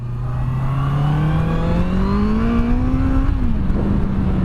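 A Honda CB650F motorcycle accelerating hard on a motorway: the engine note climbs steadily in pitch for about three seconds, then drops briefly at a gear change before pulling again, loud and close with no talking.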